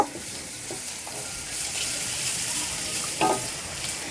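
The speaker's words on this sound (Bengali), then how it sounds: "নিয়ে নিচ্ছি পেঁয়াজ কুচি কাঁচা রসুন কুচি এগুলো ভেজে নেব" Chopped onion and raw garlic frying in mustard oil produce a continuous close sizzle with fine crackling and a few soft stirring scrapes, steady throughout without voices.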